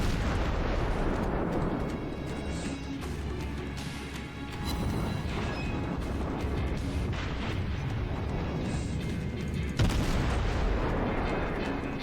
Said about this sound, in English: Let's get a last volley out on that St. Louis